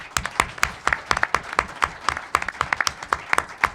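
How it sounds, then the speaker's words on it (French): A small conference audience at the Rendez-vous Gérin-Lajoie 2024 applauds a panel host, producing a close, moderately loud burst of scattered, individual claps that continues steadily without voices. "Joignez-vous à moi pour applaudir Marie-France Bazot, donc, qui a animé le pan"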